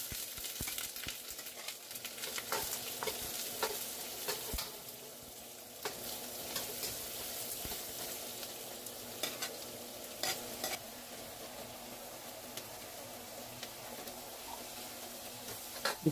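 Onions sauté in a pan for pork spare ribs, with a continuous soft sizzle and frequent ticking clicks of a utensil scraping and stirring, close and moderately quiet, with no talking.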